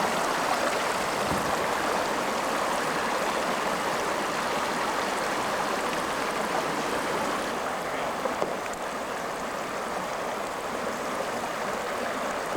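Rapids on the Moose River rush in a dense, steady broadband roar of churning water, close and constant throughout with no voices.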